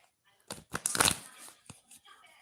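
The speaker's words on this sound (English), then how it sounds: "So let's give these cards a little bit more shuffle time." A deck of tarot cards gets a brief riffle shuffle, making a quick flurry of close papery flutters and slaps before trailing off into a few soft taps.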